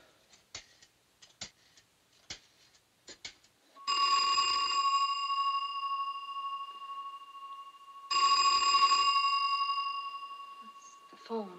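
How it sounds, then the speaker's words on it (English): A telephone ringing in a 1958 thriller: faint ticking clicks, then two long, loud, metallic bell rings separated by a pause, with the second ring trailing off. "It's the phone."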